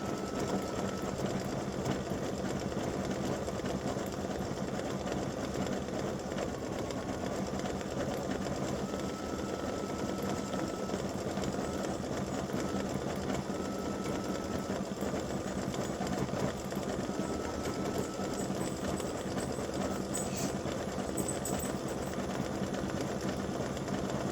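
An embroidery machine stitches letters onto a Valentine's Day mug rug, running with a steady, fast mechanical hum and needle chatter that holds constant and unbroken.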